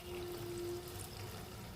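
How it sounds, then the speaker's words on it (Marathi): Water is poured into a pan of Malvani-style prawn curry, a soft, close trickling pour that runs briefly and quietly without talk. "त्यानुसार आपल्याला ह्यामध्ये पाणी घालून घ्यायचं आहे"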